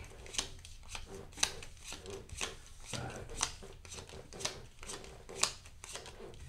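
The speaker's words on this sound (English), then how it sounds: "When you deal these cards out, you deal 8 cards face up." Playing cards for the family card and dice game Black Madness dealt out face up one at a time, each giving a soft, crisp slap or flick at a steady, roughly one-per-second rhythm, close and quiet.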